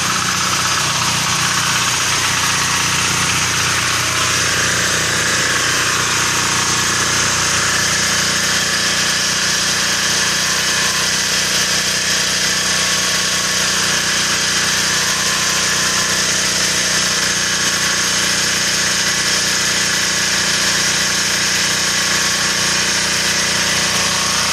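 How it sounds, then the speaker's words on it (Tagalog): A welding machine runs steadily during steel truss welding on a construction site, a loud continuous mechanical hum and buzz that holds even and unbroken throughout with no talk. "Welding ng welding."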